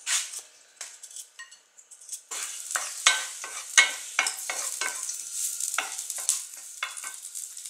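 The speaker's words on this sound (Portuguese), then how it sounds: "é legal dar uma dourada no alho" Garlic browning in a spoonful of coconut fat, sizzling in a pan while a utensil stirs and scrapes against it, crisp frying hiss with irregular clinks and scrapes, close and moderately loud.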